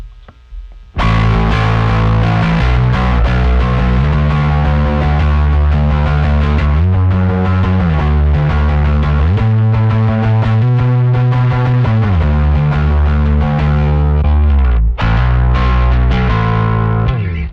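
Heavily fuzzed bass guitar through a Tonex V2 capture plays a thick, distorted riff, loud and sustained with brief pauses between phrases, no talking.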